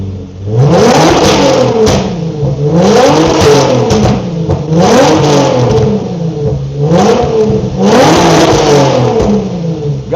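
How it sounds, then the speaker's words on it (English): Twin-turbo Nissan VQ engine in a Q50 drift car revving hard in repeated rising and falling sweeps, loud and close, with a steady roar and no talking. "Guys, that's what a VQ sound like. You hear that VQ right there?"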